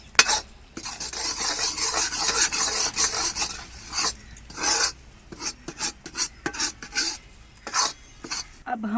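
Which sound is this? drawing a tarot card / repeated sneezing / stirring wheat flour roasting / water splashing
stirring wheat flour roasting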